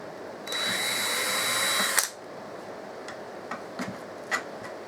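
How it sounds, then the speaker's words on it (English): A small power drill whirs steadily for about a second and a half while fitting parts during assembly of a model stock car, then stops abruptly. Light clicks and taps of handling follow close by. "nice simple drilling"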